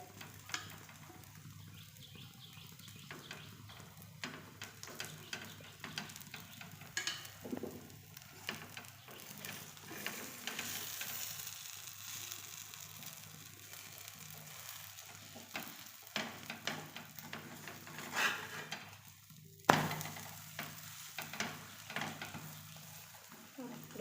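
An aloo cabbage paratha fries in oil on a pan, a soft, faint sizzle broken by occasional scrapes and clinks of a utensil.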